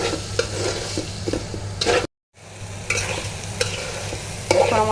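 Rice fries in a pan with cumin powder and spices for vegetable khichuri. A spoon scrapes and stirs in repeated close strokes over a gentle sizzle, broken by a brief silent gap, with no voices.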